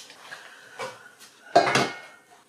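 A couple of metallic clanks as a steamer pot is set on the stove, with a louder clattering knock near the end, in an otherwise quiet kitchen.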